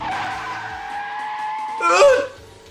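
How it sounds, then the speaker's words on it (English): A race car in the Sweet Fuse video game boosts along the track with a steady engine drone, then a brief, louder tire skid near the end, with music or voices underneath. "when the boost kicked in, we shot forward, nearly flying off the track"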